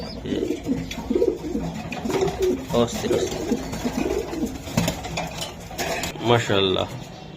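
Racing pigeons of foreign club bloodlines coo in a loft, soft repeated coos mixed with faint clatter and low voices in the background.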